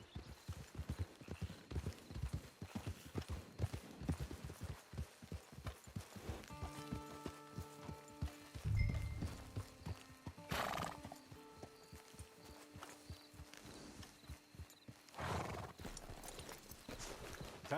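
Horse hooves clip-clopping in Red Dead Redemption Online, a steady rhythmic run of close hoofbeats with a neigh and a whinny in the middle, plus faint game music tones in the background.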